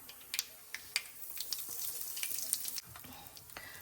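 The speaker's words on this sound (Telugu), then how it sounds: "దీంట్లోకి ఆవాలండి, జీలకర్ర, అండ్ నేను కొంచెం ఇంగువ కూడా వేసుకుంటున్నాను" Mustard seeds, cumin and a pinch of asafoetida hit hot oil for a mango pickle tempering, giving a soft, steady sizzle with scattered crackles and pops, fairly faint and close, with no talk.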